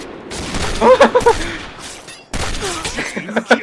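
M200 sniper rifle fire in the Point Blank shooter game cracks out in sharp, loud bursts, with a brief shouted voice mixed in near the start.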